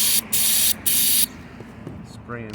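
Close, loud hissing bursts from a Honda CBR600RR fuel injector spraying during cleaning, three quick pulses in a row, then quieter background and a brief voice at the end.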